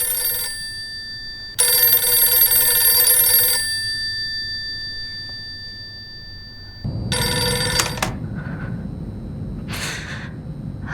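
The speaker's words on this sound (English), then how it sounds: "A ringing phone leads her back to Shu's house." A telephone rings in the horror game Silent Hill f, two long bursts of a harsh electronic bell separated by a silence, followed by heavier ringing mixed with rumbling noise and short gasping sounds.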